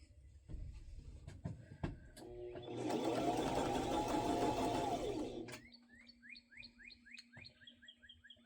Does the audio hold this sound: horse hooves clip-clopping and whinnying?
no